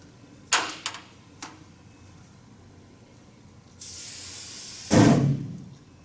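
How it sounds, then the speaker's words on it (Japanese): Aerosol spray can sprayed onto a candle flame: a few soft clicks and knocks, then a steady hiss of about a second that gives way to a louder, roaring whoosh as the flame flares up and dies away. "スプレー缶をろうそくの火に吹きかけます。"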